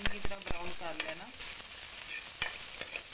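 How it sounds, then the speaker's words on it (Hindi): Whole spices tempering in hot oil in a kadhai for a winter cauliflower sabzi, a steady soft sizzle with a few sharp clinks of a ladle stirring, close and moderately quiet, with no talking. "तड़के में असी पूरा चंगी तरह ब्राउन कर लेना"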